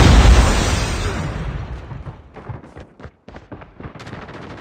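A grenade explosion in the mobile shooter Call of Duty Mobile, a loud booming blast that decays over a couple of seconds, followed by scattered gunshots and pops.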